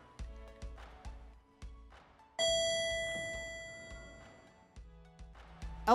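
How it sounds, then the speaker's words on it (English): An elevator ding rings out once, a loud bright chime that sustains and slowly decays over several seconds, set between quieter rhythmic clicks and thumps before and after. "Elevator ding."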